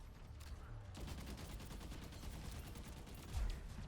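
Rapid, dense gunfire from the Overwatch video game, a continuous stream of quick shots starting abruptly and running steadily at moderate loudness, with a slight swell near the end.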